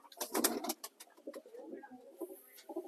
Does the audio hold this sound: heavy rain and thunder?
no